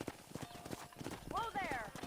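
Horse in the video game Red Dead Redemption 2, with rhythmic galloping hoofbeats close by and a whinny rising partway through, under a voice speaking.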